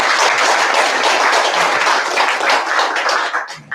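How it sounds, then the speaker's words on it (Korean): Large audience applauding at a formal commemorative ceremony in a hall, steady dense clapping throughout that tapers slightly at the very end. "세계적으로 위상으로 뻗어가시는 홀리마더 참 어머님께 큰 박수"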